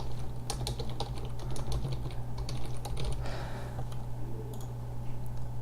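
Typing text into a cell on a computer keyboard, a quick run of close, crisp key clicks with uneven rhythm and short pauses, steady throughout and with no one speaking.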